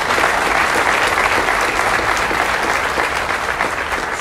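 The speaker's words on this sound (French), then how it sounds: "s'il vous plaît, applaudissez" An audience at a school's opening lecture bursts into sustained applause, a dense, loud wash of many hands clapping that holds steady throughout.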